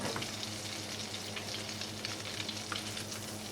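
Brioche slices soaked for pain perdu fry in a hot pan, giving a steady, close sizzle and crackle with no talk over it.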